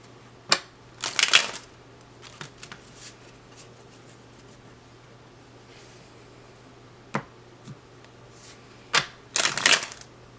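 Playing cards being shuffled in a few quick riffling bursts separated by quiet pauses, close up, with a faint steady hum underneath.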